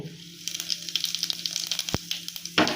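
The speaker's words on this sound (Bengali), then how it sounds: "ভাজা হয়ে গেছে এবার তেলের মধ্যে জিরে ফোড়ন দিয়ে দেবো" Cumin seeds hit hot mustard-style cooking oil left after frying fish, crackling in quick, dense pops over a soft sizzle, with one sharp knock near the end and no speech.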